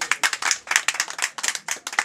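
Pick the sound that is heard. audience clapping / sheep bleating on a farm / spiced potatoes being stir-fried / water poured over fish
audience clapping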